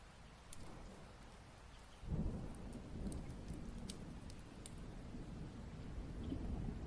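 Steady rain pattering on a surface with low rolling thunder rumbling in partway through, no voices.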